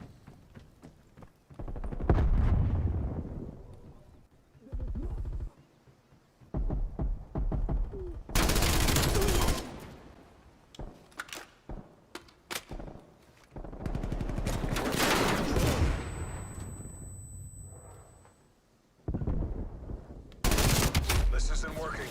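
Gunfire in a first-person shooter video game: loud bursts of rapid shots separated by short pauses, repeating through the clip.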